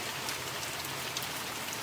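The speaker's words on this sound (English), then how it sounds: "And of course it's raining." Steady rain hisses evenly throughout in The Mortuary Assistant, a dense wash of falling drops with no voices or other sounds over it.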